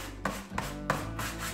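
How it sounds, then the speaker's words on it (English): An electric sander rubs over a painted planter to distress it, making a close, steady gritty whir broken by three short scraping bursts as the tool shifts across the surface. "I'm just going to grab my sander again and I'm going to give it a good old sand"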